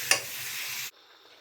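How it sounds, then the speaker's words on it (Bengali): Prawns hiss in a hot pan as they are stirred. A sharp scrape opens a steady close sizzle that runs under a second and then cuts off abruptly, leaving faint quiet noise. "এখন আমি চিংড়ি মাছগুলো দিয়ে দিব, দিয়ে আমি তারপর কষাই নেব।"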